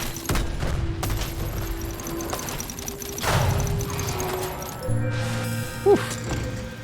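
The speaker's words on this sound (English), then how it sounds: "Get in there, autocannon." An autocannon fires in the video game Dome Keeper as a rapid volley of sharp gunshot-like bursts and thuds, mixed with other game sounds and a short tonal blip near the end.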